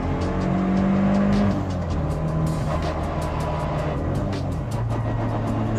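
Stock Mitsubishi Evo 6.5 Tommi Makinen Edition with a five-speed gearbox, heard from inside at over 4,000 rpm and highway speed: a steady, loud engine drone with road roar and a slight shift in pitch partway through.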